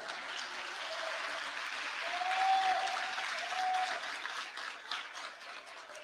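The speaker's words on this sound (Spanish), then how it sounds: "Y los despedimos con un fuerte aplauso." A crowd at a national robotics competition in Tecámac gives the departing Veracruz state champions a full, sustained round of applause, with steady clapping that swells slightly midway and then eases off.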